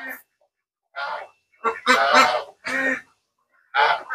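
Several loud geese honking in short, separate bursts, close by, with brief silences between calls.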